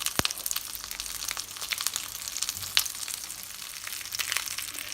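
A salted and peppered quail, prepared for a grape dish, fries in a pan. A steady hiss carries scattered pops and crackles, close by and with no talk.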